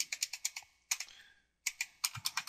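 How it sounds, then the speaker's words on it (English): Computer keyboard keys pressed during a Ubuntu Server 12.04 install in Hyper-V, a quick run of crisp clicks, then a lone tap, a pause, and another rapid burst of close, clear keystrokes with no talking. "You can scroll through using your up and down arrow keys."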